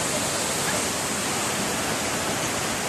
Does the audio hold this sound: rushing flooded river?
yes